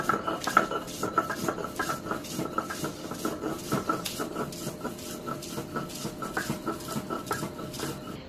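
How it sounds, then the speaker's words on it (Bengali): Fried garlic, green and dried chilies with salt, and then boneless fish, are ground on a stone slab with a stone roller, giving rhythmic scraping strokes repeated steadily at close range. "এখন পাটা পোতায় ভর্তা করা হবে।"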